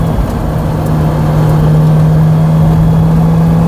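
Car engine with VVTi variable valve timing pulling under acceleration, a loud, steady droning hum that holds throughout and rises slightly, with no talking.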